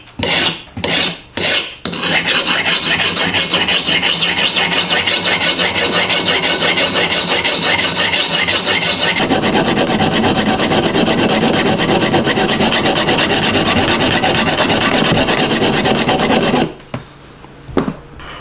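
An old axe being sharpened on the coarse side of a honing stone, its bevel kept steady on a wooden block: a few separate scrapes, then loud, continuous rapid rasping strokes for about fifteen seconds, close and alone before stopping.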